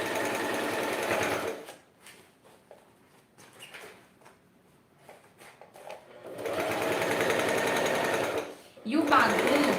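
A sewing machine stitches the lining of a wine holder in two loud, steady runs, separated by a quieter stretch of faint handling sounds, with a short final burst at the end.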